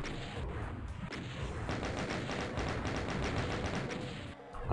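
Rapid, continuous gunfire in Doom's Plutonia Experiment on Ultra-Violence, loud, dense repeated shots blasting for several seconds with heavy thumping impacts.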